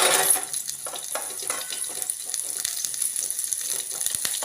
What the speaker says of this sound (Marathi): आपण कांदा टाकून घेऊया कढईमध्ये।